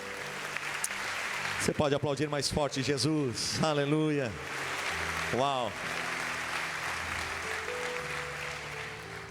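A congregation at a church congress applauds in a sustained, even wash of clapping, while a man's loud excited exclamations ring out over it partway through.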